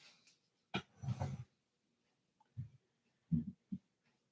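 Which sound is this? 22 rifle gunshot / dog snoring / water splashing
dog snoring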